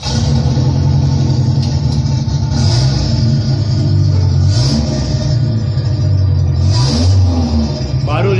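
A Kia Sportage engine with a modified exhaust runs steadily and loudly close by, its low rumble rising and falling with light revs throughout.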